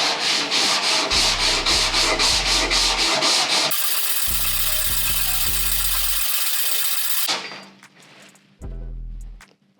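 A power sander grinds harshly and close by on car body filler, with a pulsing rhythm, then cuts off near the end, leaving quieter scraping and a brief final burst.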